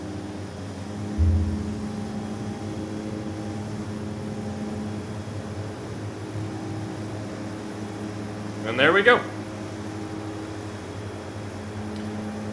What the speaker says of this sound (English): This thing is a crazy bush plane. And I do have the Tundra tires on it just for what we're about to do.